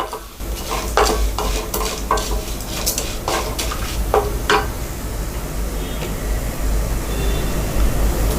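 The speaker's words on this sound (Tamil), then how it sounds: "சோம்பு, இது எல்லாத்தையுமே நம்ம வந்து போட்டு வறுத்துக்கலாம்." Fennel seeds and cinnamon dry-roast in a pan for moong dal sambar, with a ladle scraping and stirring in repeated sharp strokes over a faint steady sizzle.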